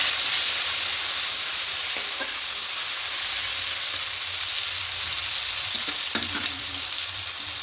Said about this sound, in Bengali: এবার এখানে দিয়ে দেবো পেঁয়াজ কুচি।